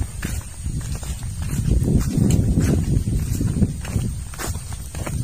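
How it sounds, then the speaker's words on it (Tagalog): A carabao pulling a wooden cart plods along with soft, irregular hoofsteps, mixed with the rumble and rustle of the cart moving over the ground, heard up close without talk. "Ayan po si Tatay Sid, susoga na siya ng kalabaw."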